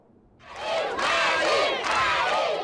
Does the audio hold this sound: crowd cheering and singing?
yes